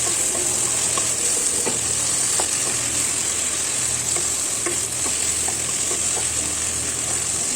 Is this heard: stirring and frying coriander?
yes